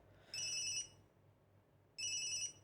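Wasp ringtone on a Nokia Lumia 635 phone: two short bursts of a bright, buzzing electronic tone separated by a silent gap, clear and close with nothing else around it.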